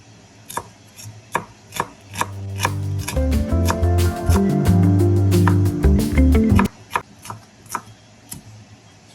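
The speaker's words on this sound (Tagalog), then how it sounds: "Maghiwa naman tayo ng sibuyas mga bikers" Onions being chopped with a knife on a board, a run of crisp, evenly spaced knife taps close by with a pan or stove sizzle surging briefly through the middle.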